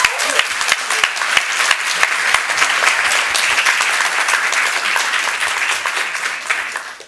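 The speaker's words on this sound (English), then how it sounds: "Let's give him one more round of applause." A crowd at a city council meeting applauds steadily, a dense wash of clapping hands that stays loud throughout before tapering off at the end.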